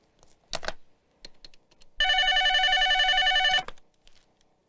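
A telephone rings in one sustained electronic burst lasting about a second and a half, loud and close, with scattered faint clicks and taps before and after it.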